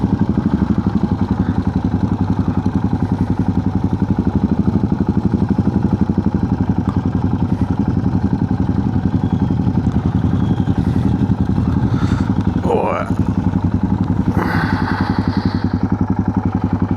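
A motorcycle engine runs steadily at close range with a loud, even, rumbling idle that continues throughout, joined briefly by a faint squeal near the end.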